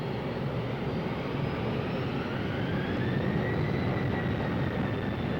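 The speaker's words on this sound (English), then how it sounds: "Even at its heaviest, the airplane was safely stopped and then taxied off the runway." A Boeing 757 jet airliner taxis off the runway after a heavy-weight stopping test, its engines producing a steady, loud roaring whine with a slowly shifting tone, no voices present.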